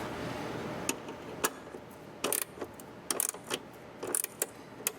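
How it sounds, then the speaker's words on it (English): A gear wrench ratchets while tightening nuts and bolts on a C2 Corvette shifter, giving short bursts of quick clicking spread irregularly over a quiet background, close and crisp. "Gear wrench is really handy right here"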